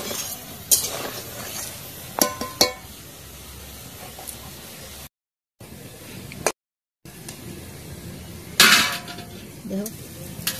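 Metal utensils clink and scrape against a pan as fried khaja, a crisp flour sweet, is lifted out of the hot oil. A few sharp knocks are scattered between quieter stretches of faint sizzling.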